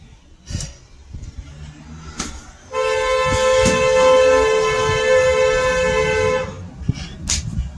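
A loud, sustained horn blares for about four seconds, steady and tonal, with scattered knocks and faint movement before and after it.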